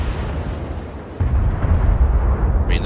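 Naval guns firing high explosive shells in the World of Warships video game, a loud deep boom kicking in partway with rumbling blasts continuing afterward.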